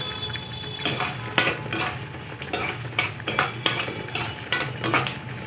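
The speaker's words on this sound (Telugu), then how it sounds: "నాన్ వెజ్ తినే వాళ్ళు అయితే ఎండి రొయ్యలు ఇప్పుడు ఈ తాలింపులోనే వేసి వేపుకోవాలి" Dried prawns fry in a tempering of hot oil while a spoon scrapes and stirs the pan, making repeated sharp clinks and scrapes over a low sizzle.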